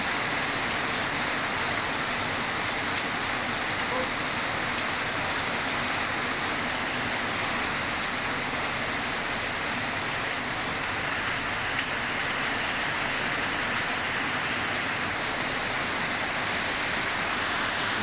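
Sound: rain falling

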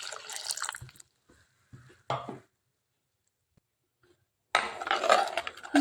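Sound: curry paste boiling in clay pot

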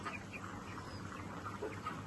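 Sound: chicken making wheezing sounds from a cold

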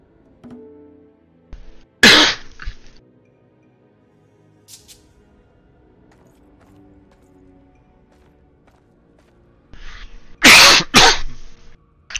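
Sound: coughing

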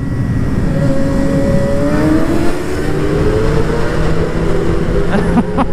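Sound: Suzuki GSX-R 750 motorcycle exhaust revving

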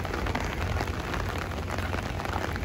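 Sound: rain falling in Singapore

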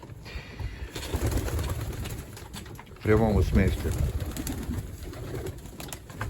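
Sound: pigeons cooing in a pigeon loft

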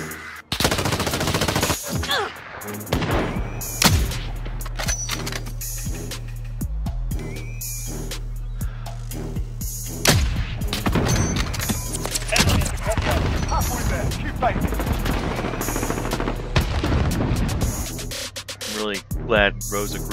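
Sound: gunfire in Call of Duty video game, friendly fire

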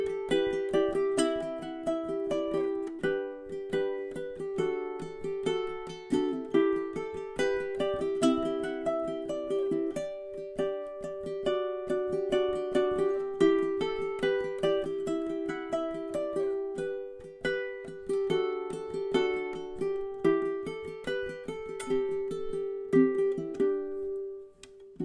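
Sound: ukulele fingerstyle, thumb bouncing with index finger melody

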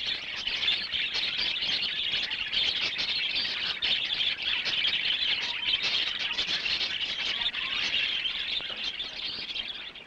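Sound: budgerigars chirping

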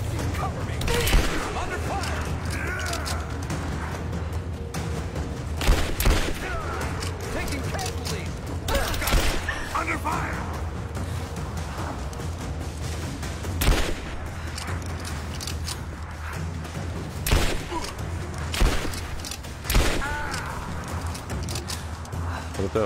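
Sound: gunfire in video game Call of Duty Warzone

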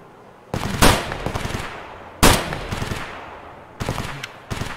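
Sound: gunfire in the video game Escape from Tarkov

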